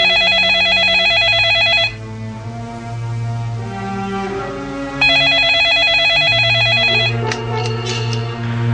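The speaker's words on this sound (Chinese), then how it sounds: "打发咗个樱木之后，佢嗰队篮球队嘅另一个队员打咗个电话俾我。" Ringing telephone effect in a Cantonese radio drama, with repeated bright electronic ring bursts over a musical background, loud and close, pausing in the middle before ringing again.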